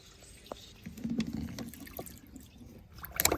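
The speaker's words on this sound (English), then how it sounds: "get some fuel in here." Fuel glugs and trickles as it is poured into a John Deere 4066R compact tractor, a soft, close liquid sound with small splashes and a few clanks near the end, fairly quiet and without talking.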